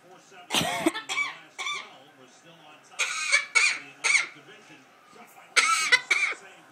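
A pet bird mimics a human cough several times in short raspy bursts, close by, with scratchy squawk-like tones between them.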